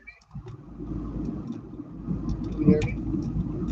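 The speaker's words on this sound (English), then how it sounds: "All I hear is the roaring of the cars in the background and everything." Cars roar in the background of a phone call, a muffled engine rumble that builds toward the end beneath a voice talking over it.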